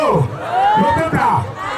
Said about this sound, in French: On applaudit pour ce couple ici présent ce soir.